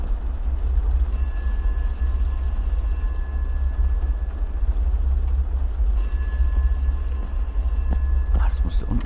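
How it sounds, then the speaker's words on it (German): A telephone bell rings in two bursts, clear electronic trills over a constant low rumbling background, with people talking around it. "The phone is ringing."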